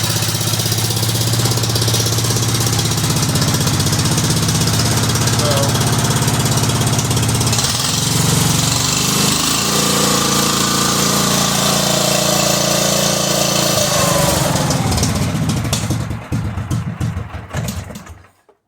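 Cub Cadet 2166 lawn tractor engine with a leaking muffler running loud and rough at close range, a steady, harsh roar that stays constant before cutting out and fading near the end.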